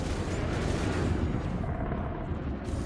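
Rapid gunfire emptying a full magazine in a space-combat game, a dense continuous barrage that stays loud and steady the whole time with no pauses.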